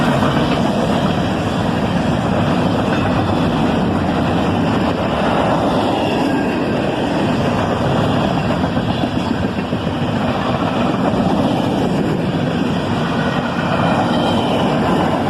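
A CSX southbound manifest freight train, with tank cars and a refrigerator car behind two ES44AH locomotives, rolls steadily past nearby in a continuous loud rumble and rattle, with no voices.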